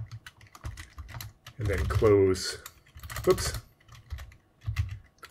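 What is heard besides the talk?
typing on a Commodore computer keyboard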